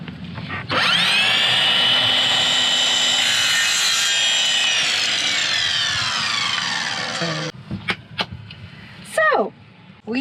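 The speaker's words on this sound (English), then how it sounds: "Let's cut that now! The dowel." A wooden dowel is sawn through for a custom pipe shelf in a van kitchen build, a loud, steady rasping power-saw cut lasting about seven seconds before it stops, followed by brief clatter and a short voice.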